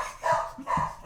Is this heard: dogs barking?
yes